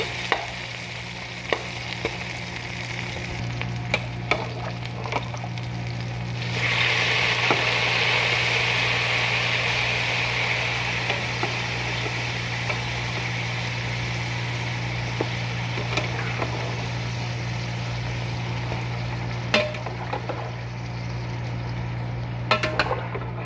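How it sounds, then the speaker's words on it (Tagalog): Ginger and onion sauté in hot oil in a pot as the base for beef bulalo soup. A continuous sizzle runs throughout and grows louder partway in, with occasional utensil clicks and a steady low hum underneath. "Igisa ko sa luya at sibuyas."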